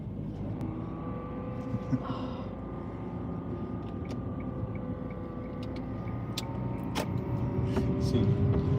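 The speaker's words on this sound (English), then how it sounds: "It sounds like a race car, doesn't it?" A steady car engine drone in sport mode with low rumbling hum, rising slightly toward the end, heard from inside the vehicle during a driving lesson, without talk.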